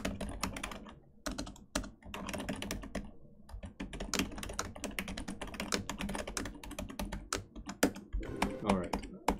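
Quick, uneven typing on a computer keyboard, close and crisp, with bursts of key clicks and short pauses and a few heavier taps, a voice speaking over it at times.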